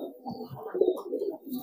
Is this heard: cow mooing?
no